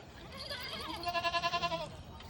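A goat being milked bleats once, a wavering, quavering call close by, with faint background noise and no talking.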